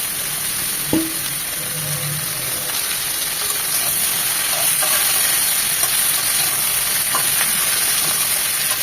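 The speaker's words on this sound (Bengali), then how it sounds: "ফুলকপিটাকে এক মিনিট ভেজে নেবো" Cauliflower fries in hot oil in a home vegetable dish, giving a steady, close sizzle and hiss with a few faint clinks of utensils and stirring.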